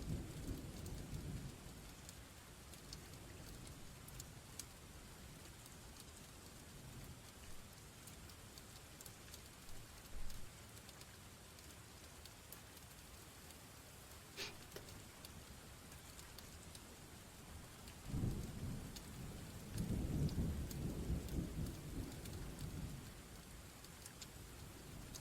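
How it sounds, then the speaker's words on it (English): Steady recorded rain hisses throughout, with low rolling thunder rumbling in at a few points, the loudest swells near the end; no voices. "Digital rain."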